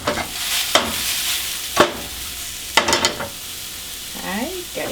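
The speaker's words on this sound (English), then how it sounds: "that mushrooms are nicely caramelizing from outside" Mushrooms sizzle and caramelize in a pan over medium-low heat, a steady close fry broken by several sharp clattering stirs and scrapes.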